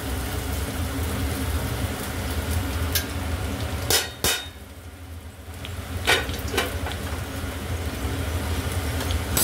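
Carrots, beans and chow mein noodles stir-frying in a pan make a steady, close sizzle. A few sharp clatters sound in the middle, and no one speaks.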